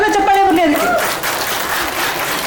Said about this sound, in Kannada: ಜೋರದ ಚಪ್ಪಾಳೆ ಬರಲಿ ಅದಕ್ಕೆ.